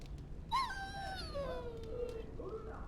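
A dog in Dragon Age: Origins lets out a long, drawn-out whine that slides downward and fades, set against a steady in-game ambient hum.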